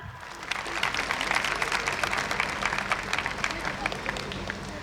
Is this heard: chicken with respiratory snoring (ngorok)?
no